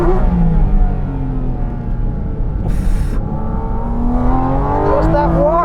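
A mid-engined Porsche GT4 RS sports car accelerates hard along a circuit's start-finish straight, its engine note climbing steadily through the gears, loud and close, with a brief burst of wind or tyre noise midway.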